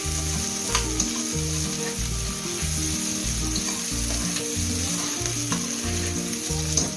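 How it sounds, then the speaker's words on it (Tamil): Tomatoes sizzle in a pan of sautéed masala for baby corn Chettinad, a loud, constant frying hiss over a steady rhythmic stirring pulse, close up and without talk. "அதை லைட்டாக வதக்கின உடனே நான் தக்காளி ஆட் பண்ணுறேன்."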